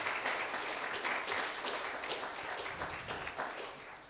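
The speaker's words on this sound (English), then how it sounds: "Please give Reverend Tangen a round of applause" A church congregation claps for their pastor at a Saturday service, a sustained even wash of applause at moderate volume that tapers slightly toward the end.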